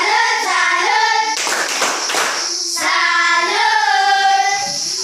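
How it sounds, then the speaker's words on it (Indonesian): A class of fourth-grade pupils performs the tepuk salut clapping chant, with sung children's voices and a burst of loud, rapid hand claps in the middle, close and energetic. "Tepuk salut untuk hari ini."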